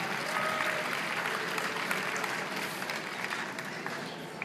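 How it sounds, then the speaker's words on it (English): Audience clapping at a horse jumping show with Clydesdale teams, a steady dense wash of applause from a large crowd throughout, fairly distant, with faint murmurs mixed in. "I think people are just clapping for the hell of it now"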